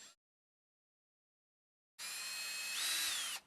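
A power drill boring out holes in a plastic UNIMOG model kit part runs in one steady close burst of about a second and a half, its whine rising in pitch near the end, after a long silence.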